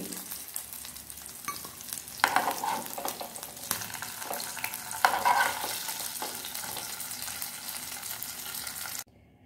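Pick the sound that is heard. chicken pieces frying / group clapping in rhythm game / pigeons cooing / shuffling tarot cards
chicken pieces frying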